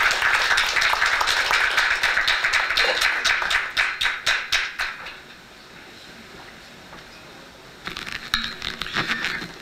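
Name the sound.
audience applause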